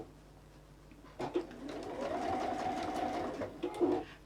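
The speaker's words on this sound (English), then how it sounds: "all I'm doing is stitching the circle down" A sewing machine hums steadily as it stitches a fabric circle down for a sunflower pouch. The whir starts after about a second, holds fairly quiet and close, and stops near the end, with no voices.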